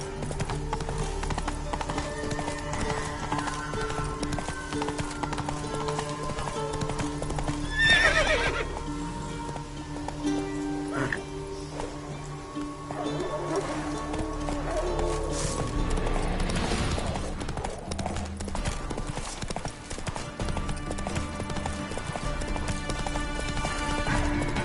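Roach, a horse in The Witcher video game, gallops with rapid continuous clip-clop hoofbeats and occasional neighs and whinnies over quiet game ambience.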